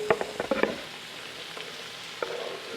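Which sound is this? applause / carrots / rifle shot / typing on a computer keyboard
carrots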